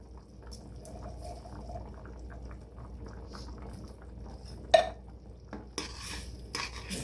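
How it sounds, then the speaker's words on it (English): Spoon stirring a creamy potato soup mixture with ham in a pot, soft scraping and faint clinks against the pan at close range, a couple of sharper knocks near the end, no talking. "Stir that up."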